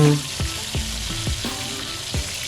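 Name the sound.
beef steak searing in a hot pan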